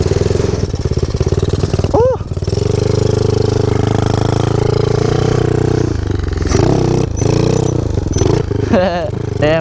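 A pit bike with a 143cc big bore kit revs hard and close through repeated short-shifted gear changes. The loud engine note climbs, breaks off briefly at each shift, then climbs again.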